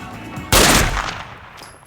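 A single sharp gunshot in a 2014 live-action Lupin the 3rd film, loud and sudden, followed by a ringing tail that fades over about a second.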